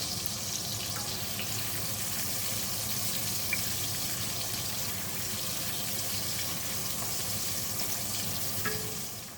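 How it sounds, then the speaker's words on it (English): Steady rushing water pouring continuously into a cooking pot, a broad hissing flow without pause, fairly close. "I'm going to add a little water to this to steam it"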